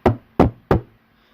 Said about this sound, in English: As he hears a knock.